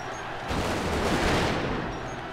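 A massed volley of matchlock guns in a Nobunaga's Ambition battle at Nagashino, heard as a dense, rolling crackle of overlapping shots that swells briefly and then fades.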